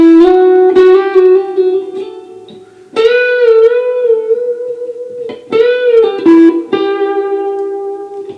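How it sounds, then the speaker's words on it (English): An electric guitar plays a short reggae lead lick from a song, sustained bending notes with hammer-ons and pull-offs, clear and upfront without talk. "We're then going to pick the 14 on the D and back to the 12 on the G."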